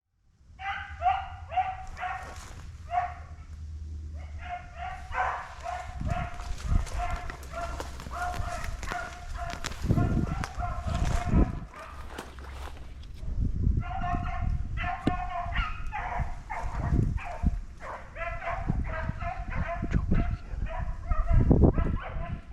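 Beagles bark and bay in excited bursts while rabbit hunting in February, several dogs close and loud, with rustling, footsteps and a voice talking between the barks.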